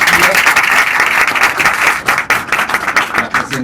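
Loud, close applause from an audience at a lecture on the philosophy of love, many hands clapping in a dense burst that thins into scattered individual claps toward the end.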